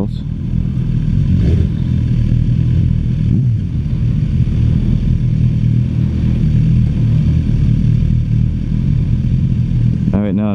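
A 2016 Suzuki GSX-R1000 sport bike is being ridden, its engine humming as a steady, loud drone mixed with wind rush throughout, with small rises in pitch as the throttle changes.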